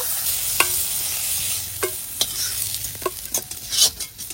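Pieces of red bhetki fish fry in oil in a kadai, a steady bright sizzle with sharp scraping clicks from a spatula stirring and turning them at irregular intervals, close and without talk.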